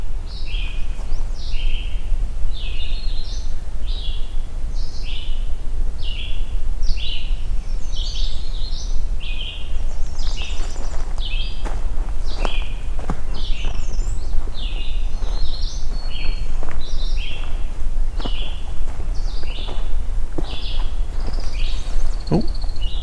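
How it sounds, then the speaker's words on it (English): Pine warbler song outdoors on an overcast morning: a long series of rapid, even trilled phrases repeating steadily, fairly close and clear, with footsteps and rustling underneath. "So there's the pine warbler."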